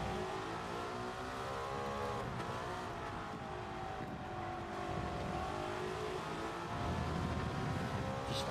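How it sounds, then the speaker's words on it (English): Naturally aspirated race car engine in Gran Turismo 7, revving hard and climbing steadily through the gears with a long shift, loud and continuous with a rising harmonic whine. "Just sounds so like genuinely naturally aspirated when you listen to the engine,"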